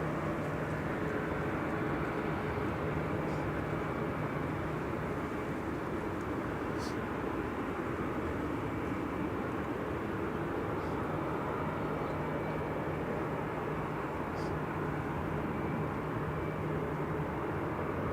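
An Aer Lingus airliner inbound from JFK to Manchester Airport gives a steady, distant broadband jet roar that holds evenly for the whole stretch, faint and washed with wind-like hiss, no talking over it.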